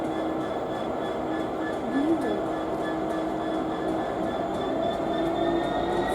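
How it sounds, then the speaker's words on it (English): A London to Yiwu freight train passes at Rugby on the West Coast Main Line, a steady rumbling roar with high wheel squeal tones running throughout, close and continuous. "First London to Yiwu train."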